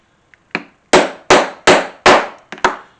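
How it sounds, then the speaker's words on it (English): A hammer strikes a small rivet punch through leather, seven sharp wooden knocks in an uneven rhythm, close and loud, each ringing briefly before fading into silence. "I'll take my small punch for my rivets,"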